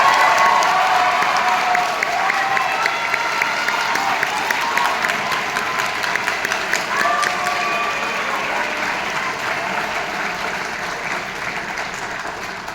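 Steady, dense applause from a high school concert audience at a senior farewell concert carries on for the whole stretch, with some cheers mixed in and a slow, gradual fade.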